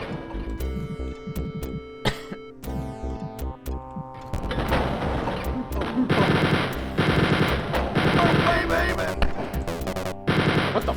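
Minigun fire in Wolfenstein 3D: rapid, loud bursts of machine-gun shots in long sustained volleys after a few sparse single shots, close and dominating with game music tones underneath.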